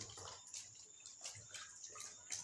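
Tie-dyed fabric is rinsed by hand in a basin of water, giving continuous soft splashing and sloshing with small drips, steady and close, with no talking.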